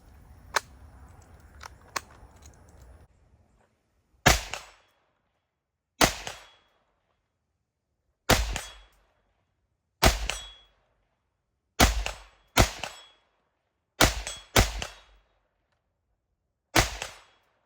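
A 20 inch DMR rifle firing cheap leftover ammunition, sharp loud single shots spaced a second or two apart, about ten in all, after a few faint clicks of handling.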